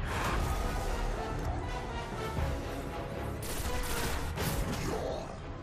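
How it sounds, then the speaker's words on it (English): Continuous loud gunfire from a first-person shooter, Destiny: The Taken King, as a player stands in one place firing, with dense overlapping shots and game effects under background talk. "I'm standing in one place shooting"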